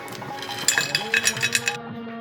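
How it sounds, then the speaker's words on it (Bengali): Crunchy roasted fox nuts pour into a serving dish in a quick series of light, rattling clinks, close and fairly loud, then stop abruptly. "এখন পরিবেশন পাত্রে ঢেলে নিচ্ছি"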